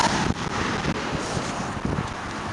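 Strong, steady wind on a sunny, frosty day beside a highway blasts across the microphone in continuous loud gusts with broadband rumble and no voices.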